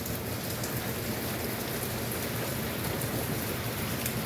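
Rain falls at night during a severe thunderstorm, a dense, steady hiss of drops pattering on surfaces close by, even in loudness and free of talk.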